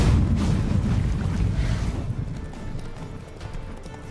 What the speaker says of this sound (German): Reite Ciri